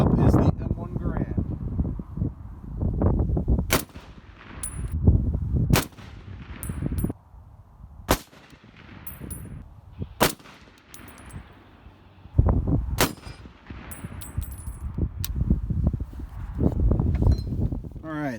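An M1 Garand rifle fires about eight sharp, loud gunshots at an outdoor shooting range, spaced a couple of seconds apart, with metallic pings and clanks between shots and people talking at times.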